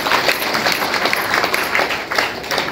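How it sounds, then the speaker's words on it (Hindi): Dense, steady clapping from a crowd at a DXN business meeting, a continuous wash of applause with no pauses, fairly loud throughout. "तालियां"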